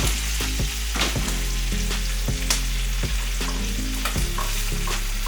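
Salmon fillets fry in a pan with butter, herbs and parsley, giving a steady, loud sizzle with scattered pops and a few utensil clicks, and no talking.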